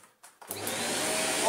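A Shark Speed Lift-Away NV680UK vacuum cleaner, just repaired after a torn hose and broken wire, starts with a couple of brief stutters and then runs loud and steady with a whining motor and rushing airflow.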